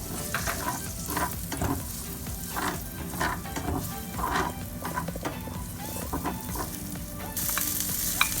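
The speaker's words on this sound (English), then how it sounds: "When the butter melts and starts to bubble, put garlic, then onion." Garlic and onion sizzle steadily in melted, bubbling butter in a saucepan, a continuous close frying hiss with faint stirring scrapes and no talk.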